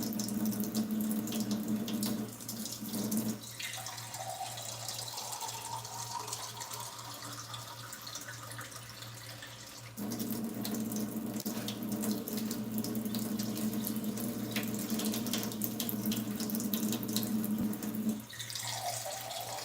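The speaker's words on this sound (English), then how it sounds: "Using purified water from the faucet." Purified water runs steadily from a kitchen faucet into a sink, a continuous close splashing stream that briefly lightens and shifts in tone partway through, with no talking.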